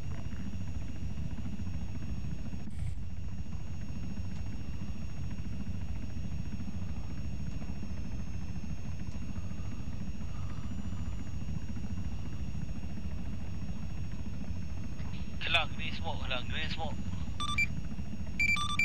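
A Chinook helicopter in the video game Arma 3 produces a steady, droning rotor and engine hum throughout. Brief chirping bursts and faint voices appear near the end.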